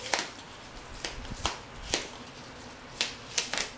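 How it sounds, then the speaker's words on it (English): Adhesive tape being folded onto itself while making a foam round shield, heard as a series of sharp, separate crinkles and snaps spaced about half a second apart, close and fairly quiet. "Now I am folding the tape"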